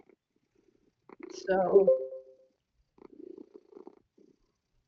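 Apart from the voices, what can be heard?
pet cat purring loudly near the microphone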